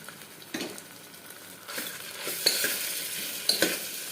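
Ginger garlic paste sizzling as it fries in a pan for jackfruit seed curry, with a utensil stirring and scraping against the pan in a few sharp strokes, growing louder toward the end.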